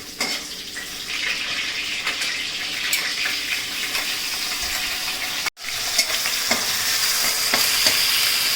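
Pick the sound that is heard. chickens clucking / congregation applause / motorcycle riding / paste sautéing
paste sautéing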